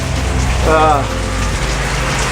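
Torrential rain pours in Arizona during a September storm, a loud, dense, continuous roar of drops hitting surfaces close by, with a brief voice breaking through midway.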